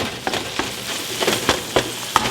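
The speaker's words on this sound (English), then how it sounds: "I am browning this meat for the tacos" Meat for tacos browns in a pan, filling the moment with a dense, fairly loud sizzle and a regular run of scraping stirs or spatters at roughly half-second intervals.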